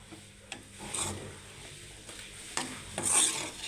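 Spoon scraping and stirring potato fried rice in a pan, with soft irregular rubbing strokes and faint sizzling, close up and quiet, no talking.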